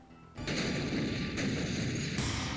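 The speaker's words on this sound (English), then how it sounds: "Here's how the blast was depicted in the made-for-TV movie Siege at Marion." Dynamite blast destroying a church as staged in the TV movie Siege at Marion: a sudden loud boom after a short quiet lead-in, then sustained roaring rumble and debris noise that surges again near the end.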